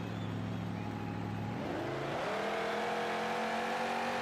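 A monster truck engine roars continuously inside a stadium at an Anaheim event, its pitch climbing sharply partway through and then holding at a steady high rev, loud and close with no talking.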